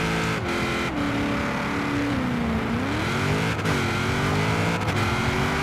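A Ford Boss 302 in Forza Horizon 4 revs hard at a drag launch, its engine note climbing and dipping through a few rising pitch sweeps. The engine drone is steady and close with no talk over it.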